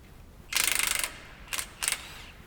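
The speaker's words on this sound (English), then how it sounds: "Remove both lower strut mounting nuts with an 18 millimeter." A ratchet wrench with an 18 mm socket backs off the lower strut mounting nuts on a Ford F150 front end, giving one quick run of close, rapid clicks followed by two short separate bursts of ratcheting.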